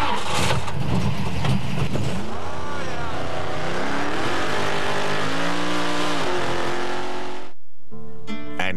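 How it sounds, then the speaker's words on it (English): An 800-plus horsepower purpose-built desert trophy truck racing the Baja 1000 near Ensenada, its engine roaring loud and close with rising and falling revs, then cutting out briefly before a few sharp bursts. "this 800-plus horsepower, purpose-built desert trophy truck"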